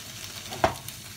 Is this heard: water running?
no